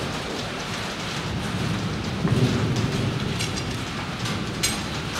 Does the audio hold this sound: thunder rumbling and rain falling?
yes